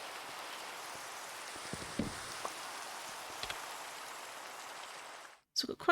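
Steady rain patters down in the Minecraft video game, a continuous soft hiss broken by a few brief louder taps before it cuts out near the end.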